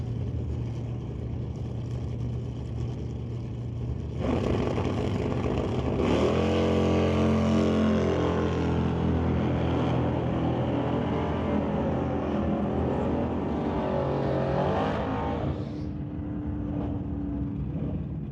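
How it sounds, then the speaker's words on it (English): Drag race between a 383 small-block Chevy Camaro and a 2011 Ford, with loud sustained engine roar rising and shifting in pitch as the cars accelerate, lasting most of the stretch before easing off. "James Dobson, The Dead Man Racing runs Engine Machine with that 383 small block Chevy Camaro, racing against Cassidy Langley in that 2011 Ford."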